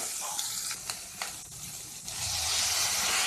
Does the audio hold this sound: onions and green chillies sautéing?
yes